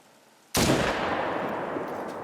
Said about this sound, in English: That is a good enough shot to be a kill shot.